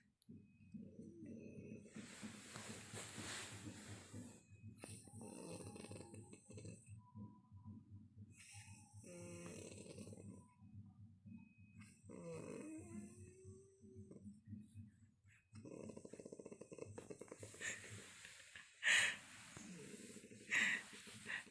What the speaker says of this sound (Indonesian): Dari rada sore udah ngorok dia.